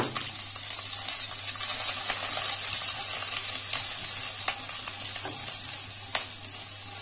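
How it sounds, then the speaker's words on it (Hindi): Sliced bell pepper frying in oil for chicken jalfrezi gives a steady, even sizzle that hisses on with faint pops and no talking. "इसी ऑयल के अंदर 1 अदद शिमला मिर्च है, इसको स्लाइसेस में कट कर लिया और इसको फ्राई कर लेंगे।"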